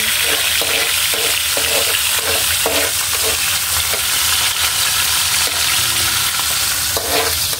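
Onions stirred in a hot pan for chopsuey, a steady loud sizzle of frying with repeated scraping strokes of the spatula every half second or so, no voices.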